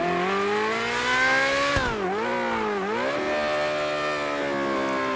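A 2023 Corvette C8 Z06 engine driven in GTA 5, a loud close-up high-pitched revving tone that drops sharply twice through quick gear shifts, then settles into a steady high cruise.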